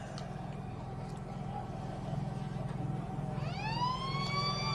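A long siren at an Australian rules football match in the Central Wheatbelt league sounds out over a murmuring crowd, rising sharply and holding steady near the end of the stretch.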